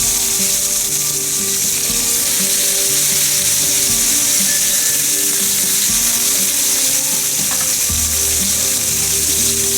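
Four big pork chops frying in a pan for Costa Rican casados, a loud, steady sizzle filling the whole stretch with no pauses, close and alone with no talk.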